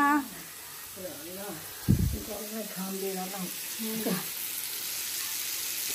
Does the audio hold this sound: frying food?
yes